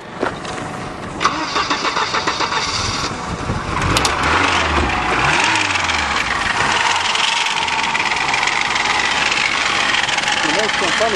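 A Volvo 760 Turbo engine cranks with a whirring starter, catches, and settles into a loud, steady rumbling idle close by.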